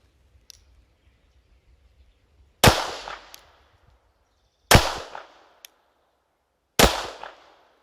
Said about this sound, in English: So now I'm just going to finish out the remainder of the ammunition in this magazine.